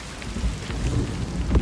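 Heavy rain falls with rolling thunder in Senua's Saga: Hellblade 2, a dense, close downpour with low rumbles swelling and fading beneath it and no voices.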